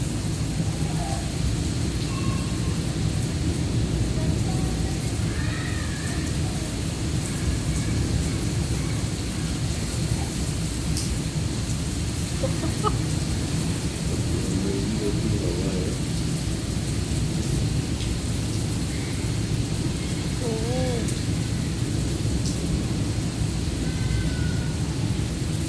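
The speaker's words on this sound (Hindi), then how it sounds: "गरज चमक के साथ बारिश है।" Heavy stormy rain pours steadily with deep rumbling thunder rolling underneath, a dense constant roar throughout, with faint birdlike chirps and a few scattered sharper sounds.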